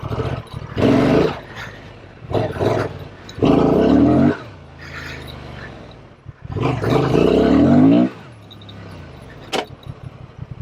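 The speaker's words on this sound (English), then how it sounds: "I'm glad I put that skid plate on. As you can hear, rocks bouncing off it" A big, heavy dual sport motorcycle with a skid plate rides over rough ground, its engine roaring in long surges as rocks clatter and bang against the plate, with a sharp metallic knock near the end.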